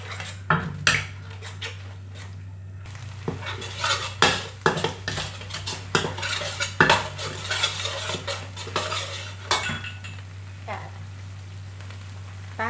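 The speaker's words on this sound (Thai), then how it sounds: "เราก็ใส่น้ำพริกแกงลงไปค่ะแล้วก็ผัดต่อไปให้หอมนะคะ" Green curry paste stir-fried in split coconut milk: repeated metallic clinks and scrapes of a utensil against the pan in an uneven rhythm, over a faint low sizzle, heard close.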